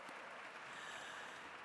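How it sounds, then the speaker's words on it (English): Audience applause at a gala evening, a steady dense wash of clapping filling the room without pause, fairly quiet and distant. "deserves a round of applause"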